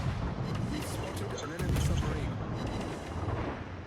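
Naval guns firing shells in the warship game Halland battle, a dense roar of booming gunfire and explosions that swells around the middle and runs continuously under a voice.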